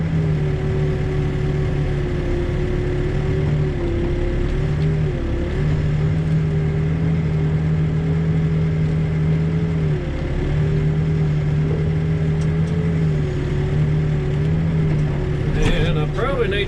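Diesel backhoe engine running steadily at close range while digging a shelf below grade, a sustained low drone with slight load changes throughout and a brief clank near the end.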